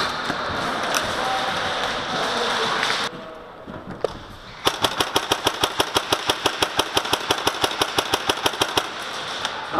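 Rapid automatic gunfire during a shooting game day, first a dense noisy stretch, then after a brief lull a steady string of about thirty sharp, evenly spaced loud shots.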